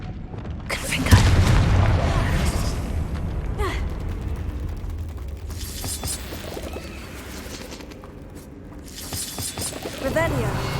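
Confringo blasting spell cast in Hogwarts Legacy, a game: a heavy boom with creaking mechanical rumble early on, followed by further sustained rumbling blasts and crackles, loud and close.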